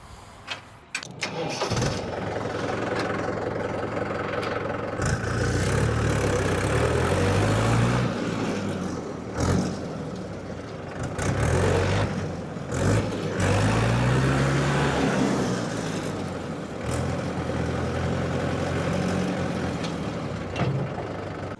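A heavy tractor diesel engine rumbles steadily nearby, its pitch rising and falling as it revs, with occasional clunks and rattles.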